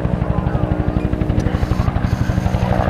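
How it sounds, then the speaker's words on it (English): A military troop-carrying helicopter flies at an air show, its rotor beating in a loud, steady rapid chop with a low engine drone throughout. "One of the most famous helicopters of all time,"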